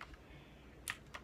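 Keys clatter on a computer keyboard used with a mouse to play on a Nintendo Switch, with two brief, faint clicks standing out near the end against quiet room hiss.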